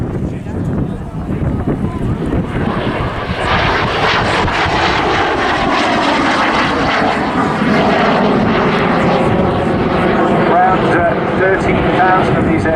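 A Soviet-built jet fighter flies past at a seaside airshow, its loud broadband engine roar swelling and holding steady close by while an announcer talks over it.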